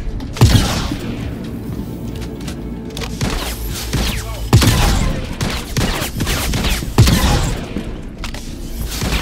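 Gunfire in a Star Citizen first-person shooter mission: three sharp, close bursts of shots separated by a few seconds, with thuds and rattling mixed in between.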